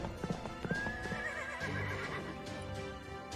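A horse's hooves clip-clop in a quick, uneven run of near strikes, then the horse gives a clear, drawn-out neigh that rises and wavers over the remaining steps.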